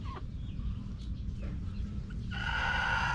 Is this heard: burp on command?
no